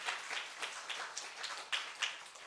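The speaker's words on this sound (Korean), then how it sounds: "하나님께 영광의 박수를 한번 드립니다" Church congregation clapping together in praise, a dense patter of many hands at a moderate distance with a few sharper claps standing out, continuous for a few seconds without speech.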